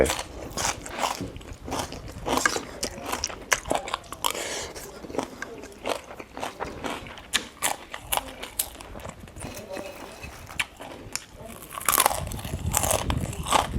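Someone bites and chews crunchy pork rib cartilage from a pork rib and radish curry, with close, loud, repeated crunches in an irregular rhythm throughout, and occasional talk mixed in.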